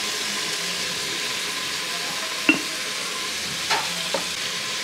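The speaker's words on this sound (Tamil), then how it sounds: "எண்ணெயை போட்டு இது வெங்காயத்தை போட்டுணும். அப்படியே போட்டு நல்லா மிக்ஸ் பண்ண வேண்டியதுதான்." Onions frying in oil in a home kitchen pan, a steady soft sizzle running throughout with a few brief clicks of stirring, no talk.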